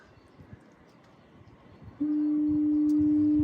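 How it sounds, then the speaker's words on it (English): Quiet ambient background in Newfoundland, then halfway through a loud, deep foghorn blast starts and holds steadily to the end. "Foghorns."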